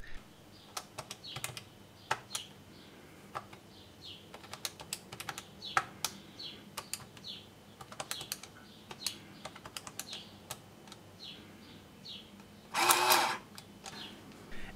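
An old printer mechanism, powered from a lab supply at 6 volts, clicks and ticks in irregular quick bursts, with a louder whirring rattle near the end; close and fairly quiet, no talking.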